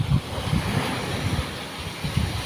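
Strong sea waves out at open water surge and roll in a low, continuous rumble, with gusts of wind buffeting the microphone and soft repeated swells rising and falling.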